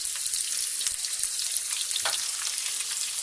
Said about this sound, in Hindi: उसमें हम इसको डाल के फ्राई करेंगे